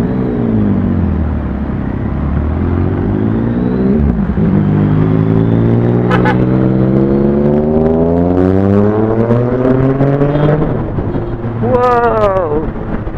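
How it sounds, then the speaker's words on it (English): A big bike motorcycle engine roars loudly nearby, its pitch climbing and falling through several strong revs and gear changes, with wind buffeting the microphone and someone talking over it. "Anong lakas ng motor yon. Ang ganda ng tunog eh, no?"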